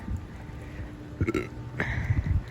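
A person burps after a breakfast of cereal and milk while out on a walk, giving a couple of short, close belches with faint ambient noise between them and no talking.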